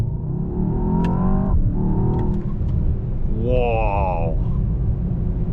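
A Mercedes S63 AMG E-Performance 802 hp V8 hybrid rumbles low and steady, then a rising turbo whine swells briefly over the engine while a person talks and exclaims.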